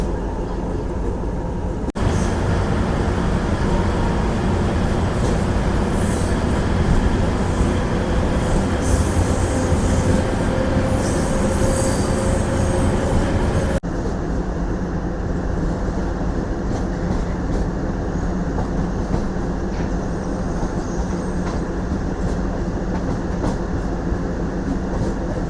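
A Nandyal–Tirupati DEMU passenger train rolls steadily through a curve, its wheels and carriages producing a loud, continuous rumble with high squealing from the rails that eases partway through.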